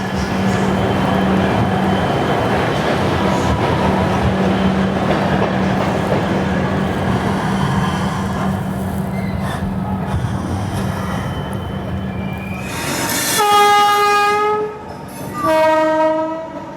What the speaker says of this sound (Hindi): 2:26 पर हमारी ट्रेन निकली है